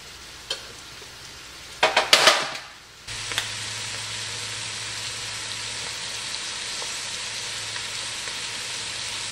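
A cabbage leaf cooks in a pan with a steady, quiet frying sizzle, broken early by a short burst of louder clatter and crackle before settling back into an even hiss.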